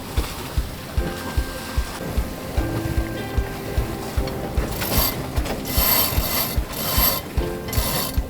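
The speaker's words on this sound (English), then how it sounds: "We're pulling in our sails." Sails being hauled in on a sailboat during tacking, with a winch ratcheting in steady rapid clicks and lines running through pulleys, followed by louder bursts of hissing over water and wind noise.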